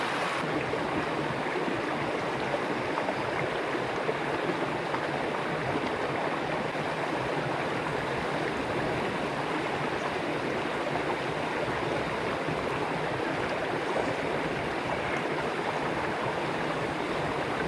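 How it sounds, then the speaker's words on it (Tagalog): Snails (escargot) cooking in a bamboo tube over a fire beside a stream, the water boiling hard, give a steady, dense rushing hiss that runs unbroken throughout with no voices. "Grabe na kulo guys"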